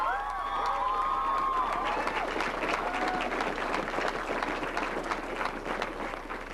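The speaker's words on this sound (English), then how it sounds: "Let's give them a clap." An audience at a 1995 Lafayette band show applauds and cheers. Loud, crowded clapping is topped by whoops and whistles in the first seconds, then continues as a steady roar that eases slightly toward the end.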